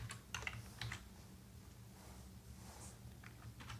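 Computer keyboard typing CSS code, with quick bursts of soft clicks: a cluster early, a pause, then a few more keystrokes near the end, all faint and close with no talking.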